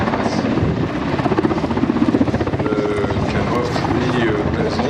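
A light combat helicopter's rotor chop and engine roar run steadily throughout a flying display at the 2013 Paris Air Show, Le Bourget, with voices talking underneath the rumble.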